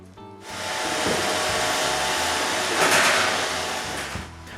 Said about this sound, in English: While Roomba is vacuuming the floor